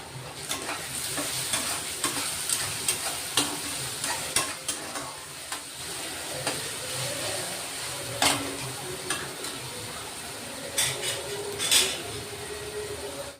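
Onions frying in oil with salt, stirred with a utensil: a steady close sizzle with repeated scraping and clinking strokes throughout, no voices, in the making of an egg recipe.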